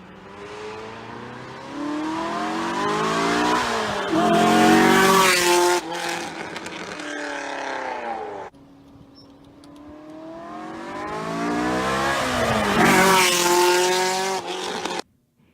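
Corvette engine passing by, rising as it approaches and fading as it leaves, heard twice in two long sweeping pass-bys, loud at its closest with a brief quiet gap between runs.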